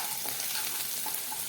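Ginger, garlic and chili paste sautés in hot oil in a kadai, giving a dense, even sizzling hiss that carries on without a break.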